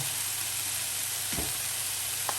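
Chestnuts drop into a pan of Brussels sprouts, giving a steady close sizzle with a brief clatter of added food midway and a small knock near the end; no voices.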